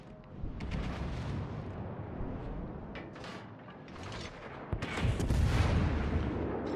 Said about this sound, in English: That's Chin's torpedo attack.